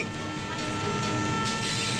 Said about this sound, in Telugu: అరే ట్రైన్ వెళ్ళిపోతుంది